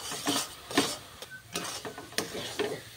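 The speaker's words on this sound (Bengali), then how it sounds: "এইভাবে নাড়তে নাড়তে একটা ডো তৈরি করে নেব" Semolina and rice flour dough stirred in a pan, giving soft scraping and knocking strokes that repeat about every half second, close and moderately loud with no voices.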